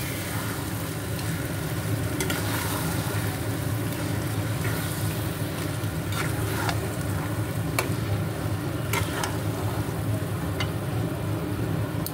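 Chicken marinated in yogurt and salt hits a hot pan and fries with a steady, dense sizzle. Occasional clicks and scrapes from stirring break through, and no one speaks.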